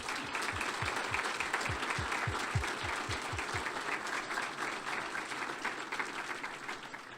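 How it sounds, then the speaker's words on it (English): An audience at a military retirement ceremony applauds steadily, a broad wash of many hands clapping at moderate volume, with a few sharper close claps early on and the sound tapering slightly toward the end. "Give them a round of applause."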